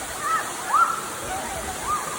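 Waterfall in a jungle setting, a faint, steady rushing hiss in the background with a few brief higher tonal calls or voices over it.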